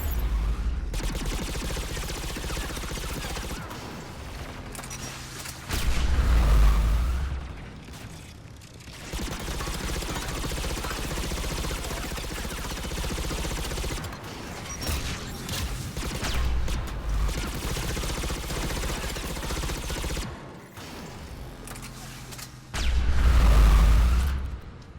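Gunfire from the player's weapon in Mass Effect 3, a sustained rattling stream of shots that cuts out and resumes, with heavy low thumps and gaps between bursts.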